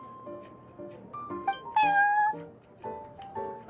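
Cat meowing in the video game Genshin Impact, a couple of short close meows with one louder drawn-out cry in the middle, over soft background game music.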